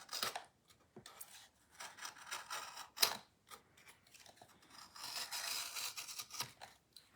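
Scissors snip through decorative Doodlebug paper while a MemoryDex box is being covered, a series of close, crisp cuts and rustles at an irregular pace with quiet pauses between.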